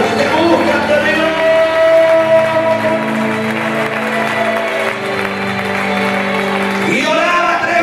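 A church congregation claps loudly and continuously over sustained keyboard and music chords during a Spanish-language sermon service, the clapping dense and steady throughout before the music shifts near the end.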